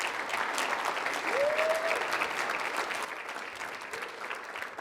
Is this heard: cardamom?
no